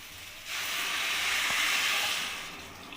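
Hot water poured into a pan holding chicken and Gobindobhog rice for chicken pulao, a steady hissing, steaming rush that swells for about two seconds and then fades.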